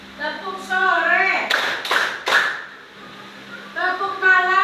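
Schoolchildren in a classroom clapping game clap three sharp, loud beats in quick rhythm between bursts of a teacher's voice calling out the cues, with talking before and after the claps.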